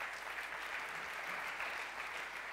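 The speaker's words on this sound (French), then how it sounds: "On peut l'applaudir?" A crowd at an e-commerce awards ceremony claps steadily, a dense and even wash of applause heard from within the room, fairly quiet and continuous throughout with no voices over it.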